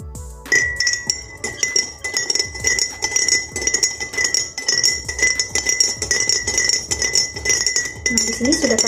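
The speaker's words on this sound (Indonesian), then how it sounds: "Kita aduk secara bersamaan." Spoons clink and scrape against glasses as sugar is stirred in, a steady, busy stirring rhythm, close up and continuous, with a faint voice underneath.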